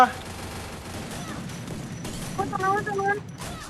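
Gunfire in the Free Fire battle royale game, a steady background of rapid shots and bursts running throughout, with players talking excitedly over it.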